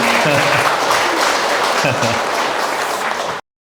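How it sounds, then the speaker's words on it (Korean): Audience applause for meditators at a health talk: a dense, steady burst of many hands clapping together that fills the room for over three seconds, then cuts off abruptly. "명상가 분들에게 박수 한번 부탁드립니다."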